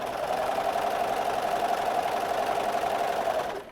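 A Brother 1034D serger runs steadily at speed through spongy fabric, a continuous close whirring hum for several seconds that cuts off abruptly at the end.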